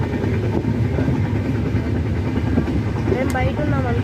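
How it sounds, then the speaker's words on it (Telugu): A train moves at Secunderabad railway junction, a low steady rumble with rhythmic rail clatter under a person talking close by, and a brief high screech near the end. "జస్ట్ ట్రైన్ జూమ్ చేస్తుంది."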